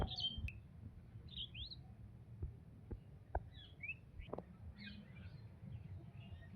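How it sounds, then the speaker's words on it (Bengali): Birds chirp and tweet around a house in the morning, with repeated short high calls scattered through steady low background noise and a few sharp clicks. "পাখির কিচিরমিচির আমাদের বাড়ির পরিবেশটাকে প্রাণবন্ত করে রেখেছে"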